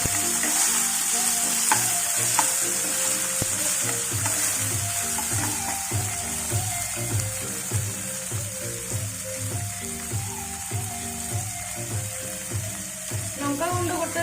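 Onions fry for a vegetable curry in an Indian veg thali, a close continuous sizzle and crackle with rhythmic stirring scrapes over a low repeating hum, no speech.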